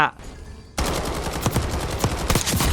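CR-56 AMAX (Galil ACE) assault rifle in Call of Duty: Black Ops, a loud, rapid full-auto burst of close gunshots in a steady rhythm that starts abruptly after a brief quieter moment.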